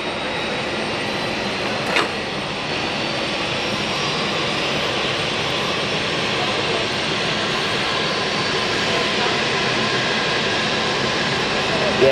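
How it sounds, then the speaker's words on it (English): A Finnair Embraer jet pushes back at Hamburg Airport, its engines producing a steady, broad roar that holds constant from start to finish, fairly loud and continuous with no talk. "We've got Finnair with their Embraer pushing back"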